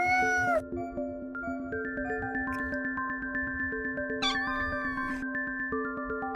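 A cat meows in Sonic the Hedgehog CD on the Sega CD, a brief sharp cry over loud, bouncy chiptune-style game music with a steady pulsing beat, followed later by another short yowl.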